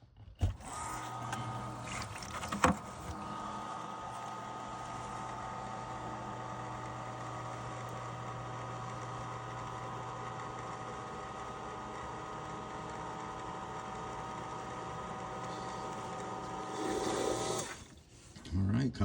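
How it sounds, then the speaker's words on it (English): A small condensate pump on a furnace with frozen drain tubing runs as a steady, continuous motor hum with a faint whir, nearly unchanging for about fifteen seconds before stopping, with a brief knock early on. "once we plug in the condensate pump, it's gonna go ahead and drain that condensate pump"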